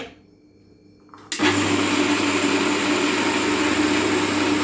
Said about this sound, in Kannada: ಈಗ ಮಿಕ್ಸಿ ಚಾಲೂ ಮಾಡ್ತೀನಿ